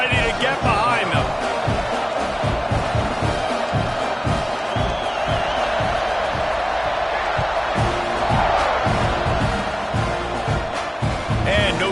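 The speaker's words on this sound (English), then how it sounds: "this crowd now ready to get behind them" Stadium crowd noise at a college football game, SMU against Texas A&M, just before kickoff: a steady, loud roar of many voices with scattered shouts and whoops, continuous throughout.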